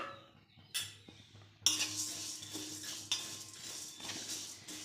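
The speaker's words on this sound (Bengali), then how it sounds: "এবার আমি একটা কড়া বসিয়েছি, কড়াটা গরম হয়ে গেছে, আমি ডালটা ভেজে নেব।" Moong dal dry-roasting in a hot kadai, with scraping and clinking of a spoon against the metal pan and a faint dry rustle of lentils, in irregular bursts through the clip with no talk.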